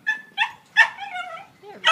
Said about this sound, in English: He's just a puppy.